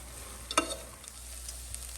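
Onions fry quietly in a pan with a soft, steady sizzle and one brief clink of a utensil near the start, close and without voices.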